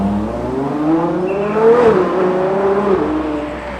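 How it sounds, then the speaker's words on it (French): A Ferrari 812 GTS V12 drives past on the streets of Monaco during the Grand Prix weekend, its smooth, high-pitched engine note rising and falling steadily over a few seconds, loud and fairly close, with no talking. "le son de ce V12, ça me rappelle l'essai de la 812 GTS que je t'avais fait"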